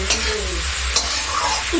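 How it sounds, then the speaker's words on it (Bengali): Close, continuous sizzle of vegetables stir-frying in a pan, with a couple of brisk scraping stirs across the pan. "তারপর ভালো করে নাড়াচাড়া করে নেবো। একটু ভাজা ভাজা হয়ে গেলেই"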